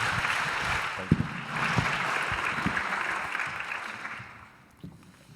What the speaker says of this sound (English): So we'll have one more round of applause for these panelists